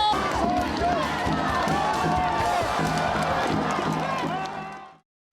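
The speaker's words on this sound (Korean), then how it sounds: "함성을 함께 해주십시오." A loud rally crowd in South Korea roars and cheers continuously, a dense wash of voices with scattered shouts and some clapping, holding steady for about five seconds before cutting off abruptly.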